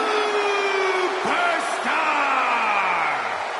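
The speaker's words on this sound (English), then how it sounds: "It's great to hear the crowd give this superstar the reception he deserves" Crowd in a wrestling video game cheering a superstar's entrance, a loud sustained roar of whoops and yells with a descending tonal sweep and a sharp hit, while an announcer talks over it.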